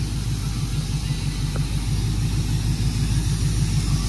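Car engine with loud aftermarket exhaust pipes at a car wash, a deep, throbbing low rumble that runs continuously and close by, steady like an idle with no break.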